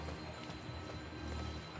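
A horse's hooves clip-clop in the video game Elden Ring, quiet rhythmic footfalls set in a dense, steady game soundscape with no talking.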